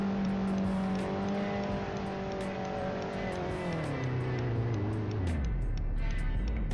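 A modified Suzuki SX4 turbo in Roblox CDID holds its engine at a high, steady whine, then the pitch drops as the revs fall away, loud and alone with no talk.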